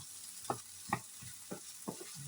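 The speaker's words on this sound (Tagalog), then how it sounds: "Fry ko muna siya kasi iba ang texture niya, iba ang taste niya" Homemade pure tomato fries in a pan for a guisado, soft background sizzle with about five distinct stirring scrapes at a steady pace, fairly quiet.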